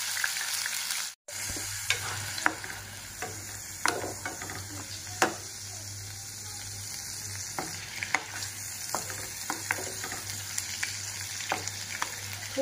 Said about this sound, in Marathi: आपण आता हे कांद्याची जी पेस्ट आहे ना ती आपण सगळी तेलामध्ये टाकून देऊ